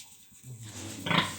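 A sow in a farm pen gives a short grunting squeal that swells near the end of the brief moment, close and fairly loud, with no talking.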